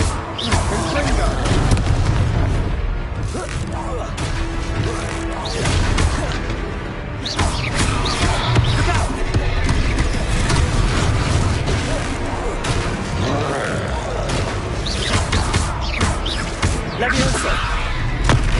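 Confringo fire spells blast repeatedly in Hogwarts Legacy combat, a dense, loud run of booming explosions and whooshes, with a voice shouting the spell names over the battle.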